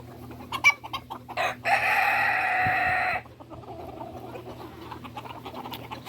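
Roosters cluck and squawk while fighting, a burst of sharp calls followed by a sustained loud crow-like screech, then quieter scuffling and clucks, close by with no talking.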